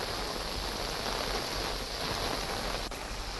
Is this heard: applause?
no